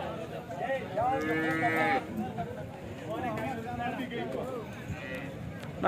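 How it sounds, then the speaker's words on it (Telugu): A cow at a weekly Sunday cattle market in Chintamani moos several times, one long, loud call followed by shorter lowing, with people talking in the busy surroundings. "ఇక్కడ ఒక ఆవు అయితే ఉంది"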